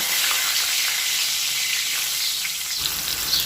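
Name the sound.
boiled potatoes frying in oil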